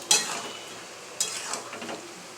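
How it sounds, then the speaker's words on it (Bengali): Fish pieces going into a boiling fish curry broth: soft bubbling and gentle sizzle close by, with a few sharp clinks of a utensil against the pot. "ঝোল ফুটে গেছে, মাছগুলো দিয়ে দিলাম।"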